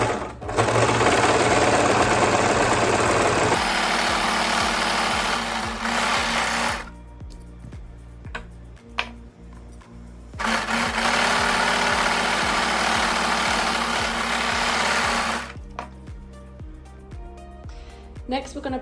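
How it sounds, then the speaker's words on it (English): An overlocker serges the seam allowance of a blouse sleeve in fast, loud, whirring runs, stopping for a few seconds of quieter pause with small clicks before starting again, then slowing near the end. "And then we're going to overlock the seam allowance of each sleeve."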